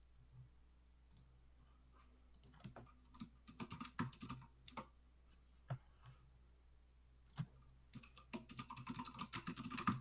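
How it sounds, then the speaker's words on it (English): Rapid clacking of a mechanical keyboard being typed on, close to a desk microphone, coming in irregular bursts that grow denser toward the end, with no voices. "We can hear your mechanical keyboard."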